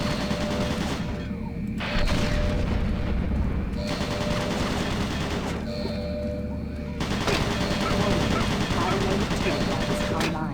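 Automated turret guns in Doom BFG Edition firing in sustained, dense bursts of rapid gunfire with short pauses between volleys, loud and close throughout.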